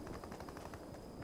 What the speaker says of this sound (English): There's so much shooting coming up there from the town.